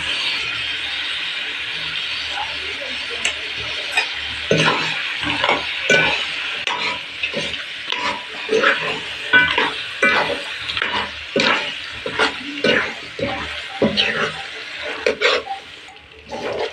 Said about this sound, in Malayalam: ചിക്കൻ ഇട്ട് നന്നായി ഇളക്കി